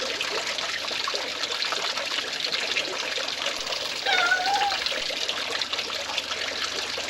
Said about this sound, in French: Le petit pissouillis qu'on entend derrière, c'est la fontaine.